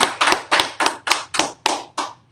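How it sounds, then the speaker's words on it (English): Hands clap in an even, evenly spaced beat at a scripture study class, about nine crisp claps over a couple of seconds, close and loud with no talking. "All right, let's clap it up."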